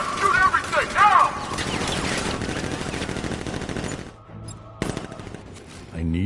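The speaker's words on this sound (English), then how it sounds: "Guard! Open fire! Shoot everything, now!" Guards opening fire in a Batman video game, a burst of loud automatic gunfire with rattling shots and effects that rolls on for about four seconds before dropping to quieter game sounds and a final shot, with voices heard at the start.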